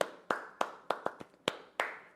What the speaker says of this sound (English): They're doing the clapping now, or whoever's turn it is.